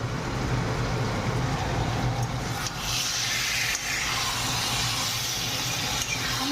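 Garlic and onion frying in a pan over a raised flame, a steady loud sizzle and hiss running unbroken throughout.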